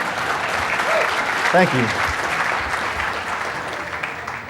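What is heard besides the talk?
audience applause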